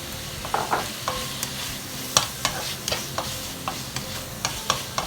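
Shrimp stir-fry in chili curry paste, giving a steady sizzle broken by repeated sharp clacks of a spatula against the pan at an uneven rhythm.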